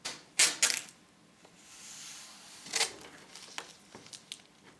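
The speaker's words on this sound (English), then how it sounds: "What we need to do first is we need to tape down our base with masking tape." Masking tape is pulled off the roll and pressed down to secure a screenprinting base, giving a few sharp tearing rips followed by softer rubs and taps, close and alone in a quiet room.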